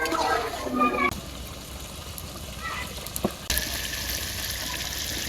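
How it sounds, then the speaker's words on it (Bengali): Chicken meat being fried with spices in oil in a village kitchen, a steady sizzle that swells louder about halfway through, with a few brief utensil knocks early on. "গোস্ত কষাই নিছি ভালো করে"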